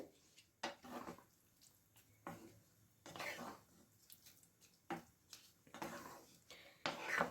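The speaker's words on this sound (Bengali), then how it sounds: "এইবারে ভালো করে নাড়িয়ে নিতে হবে।" A spoon stirs a dish in a pan, with quiet, scattered scrapes and soft metallic clinks every second or so, close by in an otherwise hushed kitchen.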